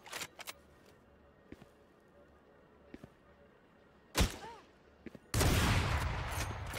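Gunshots in the video game Tomb Raider, a few sharp separate shots spaced apart, then a louder blast and a sustained burst near the end, close and punchy against a quiet background.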